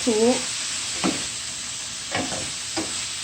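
Rasta pasta sauce simmering in a pan, a soft constant hiss and bubbling with a few stirring clinks and scrapes spaced through it, close and moderately loud.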